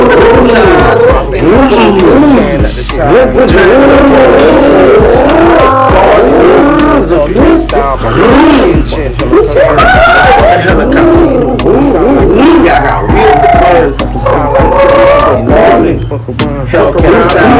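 A voice imitates a Dodge Hellcat engine by mouth, a loud, continuous revving and screeching roar with tire-squeal-like sweeps that rises and falls throughout, close and dominating.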